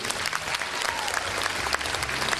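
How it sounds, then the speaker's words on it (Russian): Audience applause at a concert celebrating the 25th anniversary of the Grande rhythm ballet, a dense, steady wash of many hands clapping close and loud throughout, with faint voices underneath. "Давайте еще раз бурными аплодисментами проводим этих замечательных людей."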